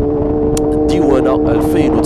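Yamaha FZ6 S2 motorcycle from 2006 idling with a steady low engine hum and harmonic drone, while someone talks over it close by.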